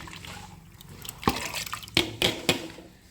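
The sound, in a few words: washed lentils (dal) being added to water in a pot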